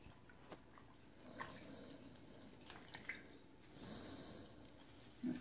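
A microfiber cleaning cloth is dipped into plain water, giving soft, quiet sloshing, dripping and squishing sounds in scattered bursts, ending with a louder wet splash.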